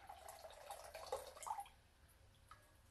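Water poured out in a thin trickling stream, faint and dripping, running steadily before tapering off into quiet, with no talk over it.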